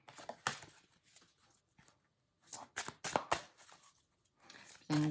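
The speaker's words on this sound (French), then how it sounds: "je suis en train de faire le tirage" Oracle cards being shuffled for a card draw, a series of close, crisp riffling and flicking bursts separated by short pauses, with someone speaking intermittently.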